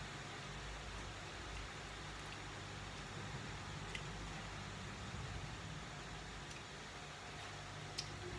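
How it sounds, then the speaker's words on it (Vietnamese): Heavy rain falls in a steady, even hiss with a low rumble beneath and a few faint ticks, continuous and fairly quiet throughout. "Mưa to rồi."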